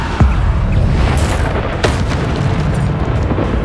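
A Bombarda spell goes off in Hogwarts Legacy, a loud booming blast followed by a second sharp impact, set against a dense rumbling background of game combat.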